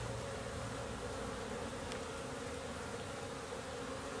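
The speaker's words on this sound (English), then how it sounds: "bees with the bee activity on the hive" Honeybees buzz steadily at the hive in late March, a continuous drone of many insects heard close and alone without pauses.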